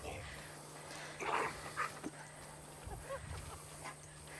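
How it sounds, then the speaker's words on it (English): Several dogs, including a Bernese mountain dog, playing and chasing each other, with bursts of panting and a few short whimpers over a steady background hum, fairly close. "All the dogs were selected because they have great play behavior."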